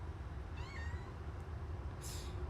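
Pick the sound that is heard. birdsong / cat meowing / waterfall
cat meowing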